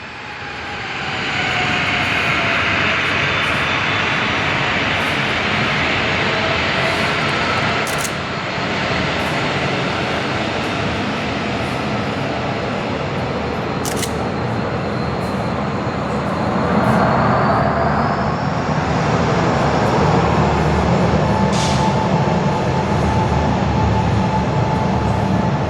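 A white Boeing 737-800 jet taxiing out for takeoff at Perth airport, heard from an indoor viewing platform: a steady, loud broadband engine roar with a whine, holding for the full length and swelling slightly toward the end, with no talk.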